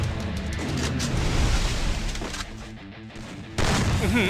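Gunfire in Free Fire during a 1v1 match: rapid, loud bursts of shots in quick succession, with a brief lull before another sharp burst near the end.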